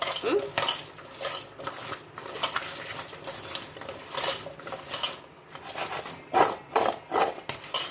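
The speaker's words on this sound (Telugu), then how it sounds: "కొద్దిగా పసుపు కొద్దిగా మిరప్పొడి కొద్దిగా సాల్ట్ వేసి బాగా కలిపేసుకొని" Cut okra being mixed with turmeric, chili powder and salt in a bowl: repeated close scraping and clinking of a metal spoon against the dish, in uneven rhythmic bursts, no voices.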